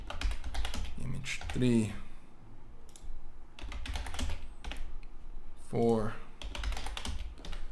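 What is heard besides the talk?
typing text on a computer keyboard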